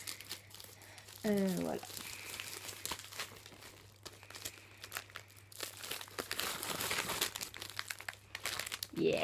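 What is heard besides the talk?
opening parcel packages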